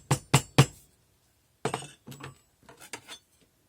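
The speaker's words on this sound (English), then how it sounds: "Now I'm going to take the end of the mandrel and tap that down a little bit." The end of a metal mandrel tapped down on a casting flask: three quick sharp knocks, a pause, then a looser cluster of lighter taps and scrapes, close by with no talking.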